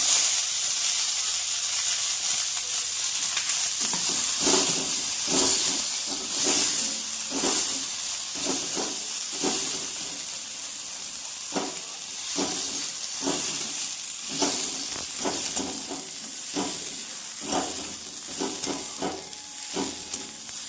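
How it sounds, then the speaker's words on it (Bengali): Carrots frying in a pan for a dalia khichuri, giving a steady hiss and sizzle broken by repeated scraping stirs, close and moderately loud with no talk. "এবার এক এক করে কাঁচা সবজিগুলো ভেজে নেবো এর মধ্যে। প্রথমে দেব গাজর।"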